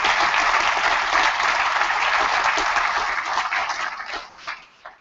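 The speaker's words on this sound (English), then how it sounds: "A round of applause, please, for everybody" A crowd at a Wings for Life World Run gathering in Ireland breaks into dense, full applause that holds steady, then thins and fades away toward the end.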